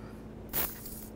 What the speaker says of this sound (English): Let's spray down these fittings with some penetrant and let it sit and do its job.